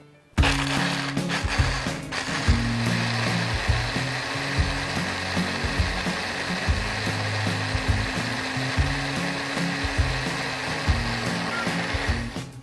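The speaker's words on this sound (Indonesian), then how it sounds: "Dan kita akan blender hingga halus dan tercampur semua bahannya ya." Kitchen blender whirring steadily as it purees red chili and spices with water, a loud continuous motor drone with slight wavering, starting abruptly and running alone to the end.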